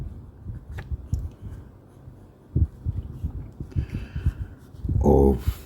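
A fountain pen with a fine steel nib scratches across paper in short uneven strokes, faint and close, with soft breathing and small handling noises around it.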